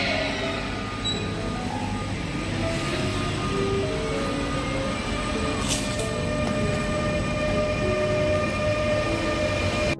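A long-distance train in Germany rumbles steadily along the rails, with a continuous low roar and faint squealing tones running throughout, heard from inside the carriage with no voices.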